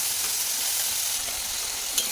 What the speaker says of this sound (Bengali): পেঁয়াজ আর টমেটো যখন একটু ভাজা ভাজা হবে